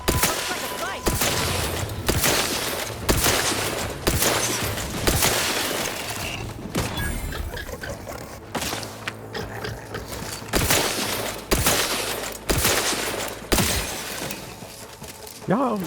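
Rapid, loud gunfire bursts from the video game Outer Worlds 2 repeat across the clip, with brief pauses between volleys and a voice speaking partway through.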